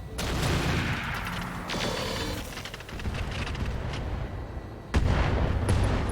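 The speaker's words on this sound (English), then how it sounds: "We're going to fire slug ammo." Heavy slug ammunition fired in the RogueTech mech game, a string of booming, rumbling shots and mechanical clanks rolling on without a break, with a fresh loud blast near the end, all loud and with no voices.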